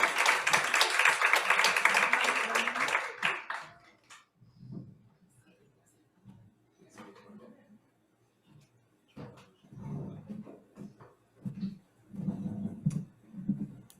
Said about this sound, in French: On peut lui donner une bonne main d'applaudissement.